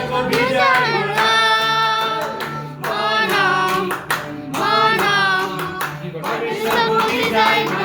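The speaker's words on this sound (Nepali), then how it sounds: "हामी सबै ताली बजाउँ।" A church congregation claps hands together during a worship celebration, the steady clapping blended into loud continuous singing and music throughout.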